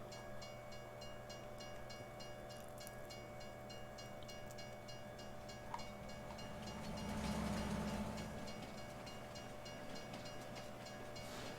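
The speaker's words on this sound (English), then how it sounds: "Because this is still a long train" A long train rolls past a level crossing, a steady distant rumble with faint clicking wheels and crossing-signal tones, swelling slightly midway, heard alone.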